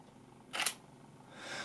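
The shutter of a Nikon D810 camera releases once, up close, with a soft, brief mechanical clack in a quiet room, followed by faint rustling.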